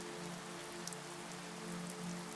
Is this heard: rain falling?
yes